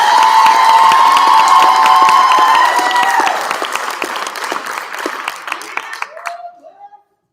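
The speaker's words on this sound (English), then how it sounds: "Let's give a round of applause to" Loud audience applause with cheering at a college's annual state-of-the-college address, dense clapping that thins out and fades over several seconds, with scattered voices and shouts mixed in.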